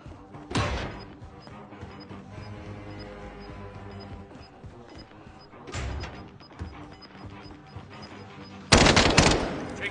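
Bursts of automatic gunfire ring out in Call of Duty Warzone on Rebirth Island. Three separate volleys come at moderate distance, with the last and loudest near the end, over a faint steady game background.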